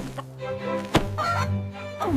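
A cartoon hen clucks and squawks on a farm, giving short rhythmic cartoonish calls with a brief thunk in the middle, set close against a light musical background.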